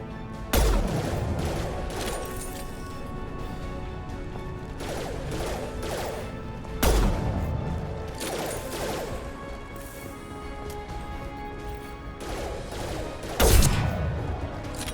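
Gunfire in Mass Effect 2 on Insanity difficulty: sharp, loud shots land near 0.5, 7 and 13.5 seconds, each followed by a ringing tail over a steady mechanical background.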